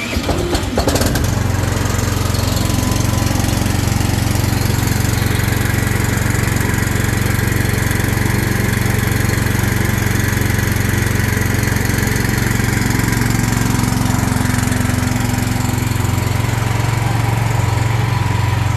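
A small SS orchard pesticide sprayer's engine catches after a brief start-up rattle, then runs loud and steady with a constant droning hum for the rest of the clip.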